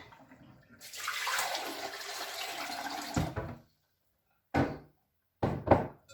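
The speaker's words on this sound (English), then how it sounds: "we'll pour a little bit into the sink" Water is poured into a sink in a steady, continuous rush lasting a few seconds, then cut off, followed by two short, sharp bursts of splashing or knocking nearby.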